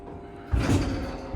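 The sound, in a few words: Schindler HT 330A hydraulic elevator door closing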